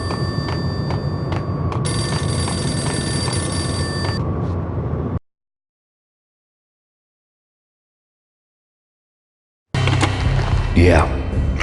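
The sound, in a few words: payphone ringing in video game Max Payne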